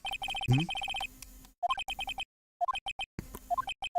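Phone ringing in Phoenix Wright: Ace Attorney – Trials and Tribulations, an electronic ringtone of rapid repeated beeping tones in short bursts separated by brief silences, clear and fairly quiet.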